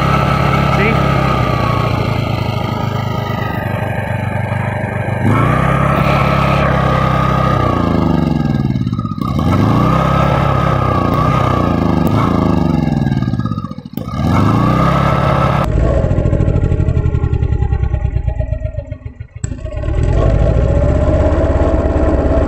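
A homemade generator engine built from scrap runs with a steady, buzzing chug, then its throttle is shut and the engine note dips sharply a couple of times before recovering, with a voice talking at moments.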